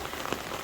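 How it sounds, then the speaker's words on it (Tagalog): Heavy rain pours down in a dense, loud, steady hiss, with drops pattering hard on surfaces close by, filling a short burst with no voices over it. "sa sobrang lakas ng ulan"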